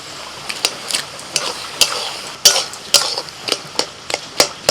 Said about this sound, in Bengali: এবার মাছের মাথা দিয়ে দিচ্ছি